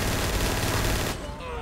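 Rapid gunfire bursts from the GTA 5 video game crackle loud and dense for over a second, then cut off, leaving a quieter game background.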